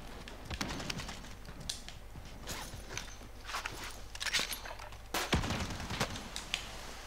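Gunfire in Call of Duty Warzone, a rapid scatter of sharp shots and clicks under steady game noise, fairly faint throughout with a louder burst near the end.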